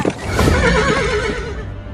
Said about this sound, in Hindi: अबे रुक जा घोड़ा